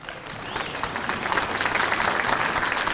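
A large audience at a youth political conference in Bengaluru breaks into dense, steady applause to welcome a speaker, swelling slightly louder over a few seconds.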